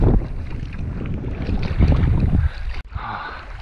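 Wind gusts across a river channel on the Petawawa River during a canoe trip, a loud, buffeting roar against the microphone that drops away sharply near the end.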